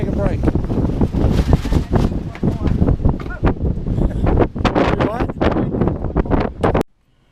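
Strong storm gusts forecast above 50 mph buffet a boat being tarped, producing heavy wind roar and microphone buffeting in repeated bursts, loud and close, with people speaking intermittently over it before it cuts off.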